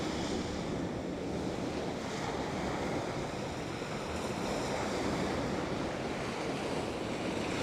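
Storm waves break and wash continuously along the shore at Felixstowe in near-gale force winds, with heavy wind buffeting the microphone in a steady, loud roar and no voices.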